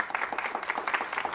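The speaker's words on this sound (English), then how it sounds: "can I have a round of applause for our panel?" An audience applauds a panel at a public event, with a short burst of steady, moderately loud clapping from a crowd.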